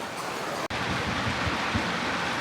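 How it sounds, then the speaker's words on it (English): Rain falls outdoors during a cook on a 20-inch aluminum Blaze kamado grill, a steady, even hiss throughout with one brief dropout and some faint low thumps. "Just chilling in the rain."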